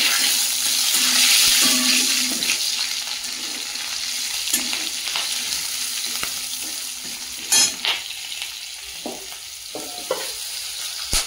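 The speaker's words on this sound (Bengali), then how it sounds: "আদাটা ভাজা ভাজা হয়ে গেছে" Chopped ginger and slit green chillies fry in hot oil in a pan, a steady close sizzle broken by stirring scrapes and a few sharper clinks toward the end, with no talking.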